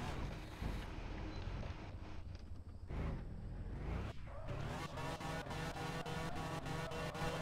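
A car engine starts up in a driving video game, a revving, whooshing engine note that settles into a steady pulsing idle, loud and close with no talking.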